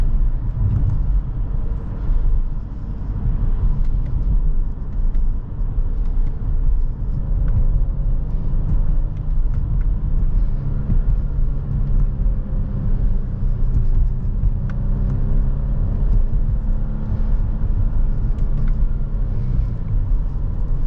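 A 2024 Volvo S60 B5 AWD with an 8-speed automatic shifted manually drives on winter roads, heard from inside as a steady low engine and road rumble with faint swells as gears change. No one talks.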